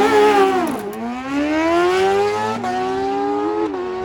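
A Kawasaki ZRX motorcycle accelerates hard into a wheelie, its engine note climbing loudly through the gears with distinct shift dips as the revs rise again, heard alone and up close.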